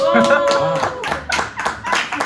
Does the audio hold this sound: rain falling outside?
no